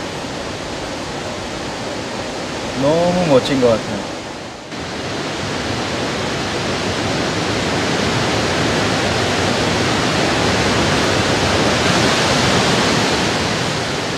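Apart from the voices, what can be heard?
roar of Iguazu waterfalls, Argentina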